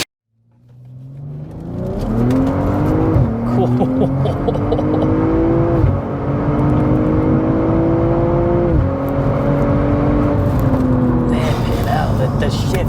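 A tuned 700 bhp BMW G42 M240i starts and pulls away. A low idle rumble rises into rising revs, with gear changes breaking the climbing engine tone as the car drives off, loud and close from inside.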